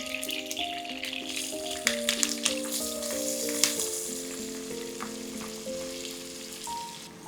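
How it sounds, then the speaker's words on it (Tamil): Mustard seeds crackle and splutter in hot oil in a pan for a home-style dum brinjal masala, a dense close sizzle with scattered pops under a steady melodic tone in the background. "1 டீஸ்பூன் கடுகு போட்டு பொரியட்டும்"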